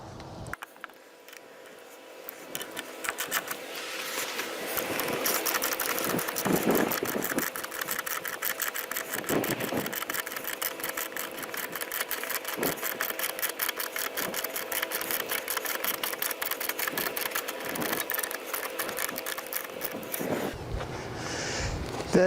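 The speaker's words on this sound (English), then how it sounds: "I'll come back and start screwing this whole thing together." A power drill driving screws into a metal solar panel mount, a steady, close, high-pitched motor whine that runs almost continuously for about twenty seconds with brief dips, then stops.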